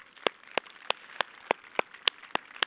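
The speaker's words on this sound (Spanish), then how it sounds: "Dale un fuerte aplauso al Señor." A church congregation clapping in a steady, even rhythm, each clap crisp and distinct at roughly three per second, with no talk over it.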